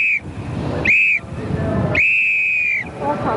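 Three loud, steady whistle blasts at a 1992 Beetle event, the last held longest, each a bright sustained tone separated by short gaps over outdoor background noise.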